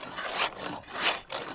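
A hand saw cuts around the perimeter of a wooden wheel outdoors, two close rasping back-and-forth strokes with short pauses between them and no talk.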